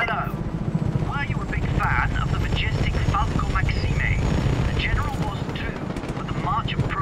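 A helicopter in the video game Just Cause 3 throbs with a loud, continuous rotor and engine roar, while someone talks over it throughout.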